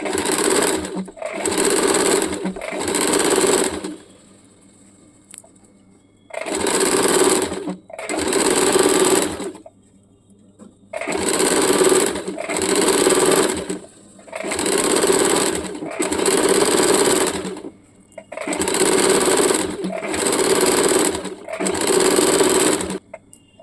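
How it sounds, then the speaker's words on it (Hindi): A sewing machine stitches the round edge of a baby umbrella frock in repeated bursts of a few seconds each, separated by brief pauses, loud and close with no talking. "अभी मैं ये पूरा गोलाई सिल के आप लोगों को दिखा देती हूँ।"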